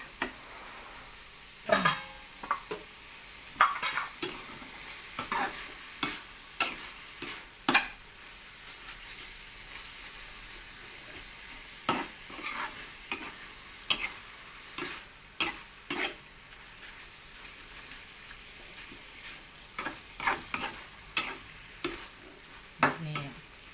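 Beans are stir-fried with curry paste in a pan: repeated scraping stirs and clanks of a spatula against the pan come at an irregular rhythm over a soft, steady sizzle, close and fairly clear.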